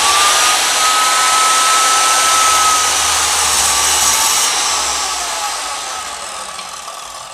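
A Ryu RMS 180 miter saw motor whirs at high speed, running free with a bright, airy whine. The sound is steady, then eases slightly toward the end.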